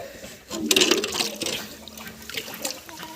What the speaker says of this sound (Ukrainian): Полию зараз поливачка в мене тут є.